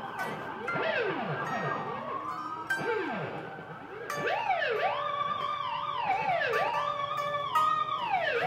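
A person's voice imitates a police siren, sliding up and down in repeated wailing sweeps that grow louder and more layered midway, sustained for several seconds without other talk.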